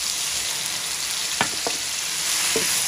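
Cumin seeds sizzling in hot ghee for crispy bhindi fry, a steady dense crackling hiss throughout with a few brief spoon clinks near the middle and end, close and fairly loud with no talking.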